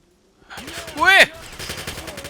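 Burst of gunfire in a video game, a quick volley of shots rising to a sharp loud peak and trailing into scattered echoes, with a faint voice nearby.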